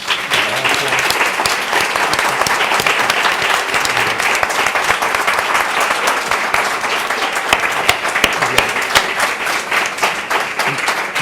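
Sustained applause from a large audience at a Spanish-language literary panel, honoring the panel speakers; dense, steady clapping throughout with a few brief voices mixed in.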